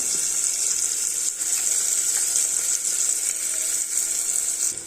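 Onion sautés in a pan for rajma masala rice, a steady, close hiss of frying oil with faint stirring clicks throughout and no speech.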